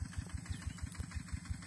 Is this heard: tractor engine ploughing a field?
yes